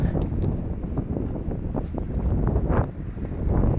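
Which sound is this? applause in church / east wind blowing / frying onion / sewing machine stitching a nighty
east wind blowing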